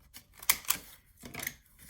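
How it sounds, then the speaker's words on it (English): Crisp paper creasing and rustling as a sheet is folded for a small handmade paper mini album, two sharp snaps close together and then a softer rustle, close up with no voices. "Let me fold this when I do it"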